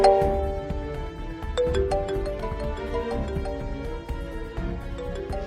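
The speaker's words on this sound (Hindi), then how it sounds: "तेरे ना भाई का फोन आ रहा है" A mobile phone ringtone plays a bright, tonal electronic melody of held and stepped notes, steady and fairly loud throughout, with no one speaking.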